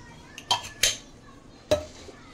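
Naan dough ingredients with oil, baking powder and baking soda get mixed in a bowl, three brief clinks and scrapes of a utensil against the bowl, close and fairly quiet.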